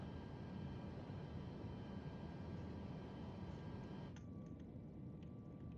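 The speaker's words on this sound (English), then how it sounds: "Wow, that is a beautiful takeoff." A Boeing 737 MAX 8 takes off in Microsoft Flight Simulator, a steady broadband engine roar that holds constant and loud throughout, with a faint high whine and a small shift in tone near the end.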